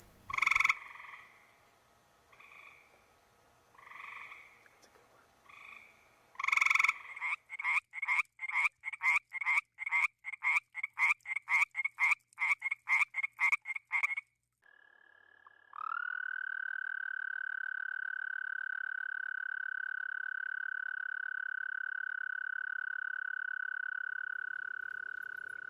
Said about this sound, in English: Frogs specifically use sound to attract a female.